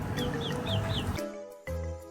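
Chickens cluck in short repeated bursts at close range, continuous over steady background noise, with a couple of sharper calls toward the end.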